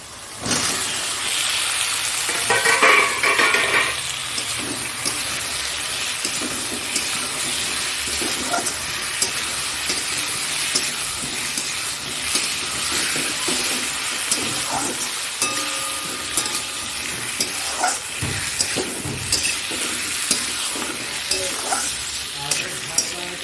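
Potatoes fry in a pan and are stirred steadily, a continuous loud sizzle with scraping stir strokes running throughout, close up and without talk.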